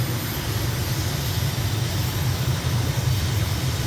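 A flight simulator aircraft's engine drones at full takeoff power during a rolling start on the runway, a steady loud roar with no talking.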